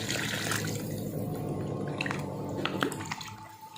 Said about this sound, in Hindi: पानी डाल देना है